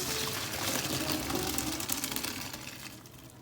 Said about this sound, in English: Next, you drain the noodles